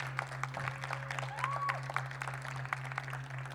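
An audience at a cabaret event claps in a soft, steady patter, fairly faint and distant, with a low steady hum underneath throughout.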